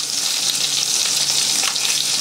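Sausages frying in a hot pan, a loud, steady, close sizzle with crackling spatter throughout and no voices.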